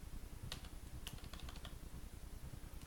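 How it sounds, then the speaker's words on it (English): Typing on a computer keyboard while setting up a Southern G-Box streaming device, a steady run of quick soft key clicks with a few sharper taps, close and fairly quiet, with no voices. "I'm going to use a keyboard to try to expedite this."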